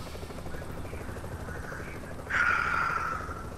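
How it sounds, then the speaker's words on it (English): Evacuation helicopter in the video game The Division: a steady rotor drone that swells noticeably louder midway, sitting over a constant low rumble. "Wiki, get on the chopper"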